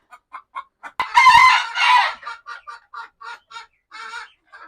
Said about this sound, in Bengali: এই মুরগি ধরার কারণে বাকিগুলো চিল্লা চিল্লি শুরু করেছে